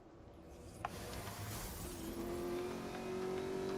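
Porsche race car engine in a racing game, a steady droning roar at low volume that rises in pitch as it accelerates, with a brief sharp knock early on and no talking.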